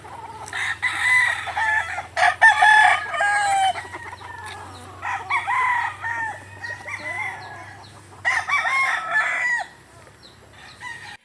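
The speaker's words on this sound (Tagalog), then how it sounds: "Tapos nang magpatuka ng manok si Richard" Chickens cluck steadily nearby while a rooster crows several times, loud and close.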